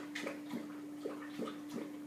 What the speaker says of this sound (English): could you hold off on drinking the water loudly